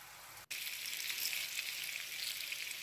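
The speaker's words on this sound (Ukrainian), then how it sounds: "Рибу обсмажити з двох сторін" A steady, close sizzle of fish frying in hot oil in a pan, briefly cut off before resuming at an even crackle.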